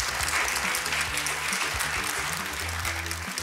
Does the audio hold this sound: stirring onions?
no